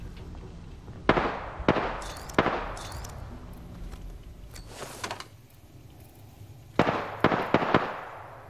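Apex Legends weapon fire comes as sharp, spaced shots, loud single cracks in two clusters separated by quieter stretches of in-game ambience.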